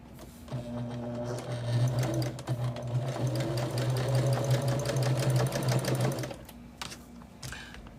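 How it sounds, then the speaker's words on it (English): A sewing machine chain-stitches quilt block pieces together, running in a steady, close, continuous whir for several seconds before stopping, with no talking over it. "We are going to again put the pieces together and just chain stitch them."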